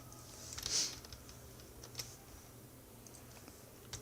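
Typing code on a computer keyboard during a web design class: a steady run of light, close key clicks with no talking.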